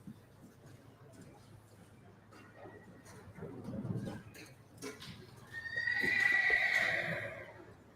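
A horse at a sale demonstration backs through a U-shaped pattern, with soft hoof thuds and scuffs on the ground building up to a clear, fairly close whinny near the end.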